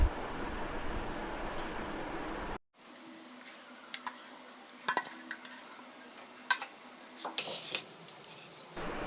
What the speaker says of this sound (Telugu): ఆ మెంతిపొడిని తీసుకుని ఒక స్పూన్లు వేసి కలుపుకోవాలి